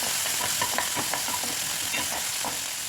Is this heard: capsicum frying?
yes